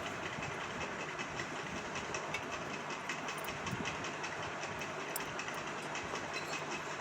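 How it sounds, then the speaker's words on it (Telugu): A kitchen mixer grinder whirs steadily while grinding green chillies, ginger and garlic, a constant buzzing motor roar at moderate volume with no talk. "అల్లం వెల్లుల్లిపాయలు కూడా వేసుకుని మిక్సీ పట్టుకోవాలి."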